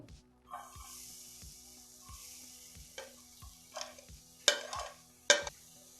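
Freshly grated coconut stirred into ghee in a pan while making coconut barfi, a low sizzle with repeated scraping strokes of a spoon and a couple of sharper knocks against the pan near the end.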